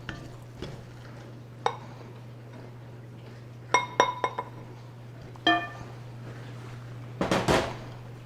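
A dough whisk works through thick bread dough in a bowl, giving scattered metallic clinks and ringing taps, some in quick clusters, over a steady low hum with long quiet gaps.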